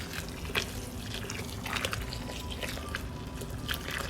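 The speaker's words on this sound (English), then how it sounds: "I'll just pour this much water in." Water trickles and drips into a houseplant pot, a soft steady pour broken by scattered small splashes and drips, close and fairly quiet.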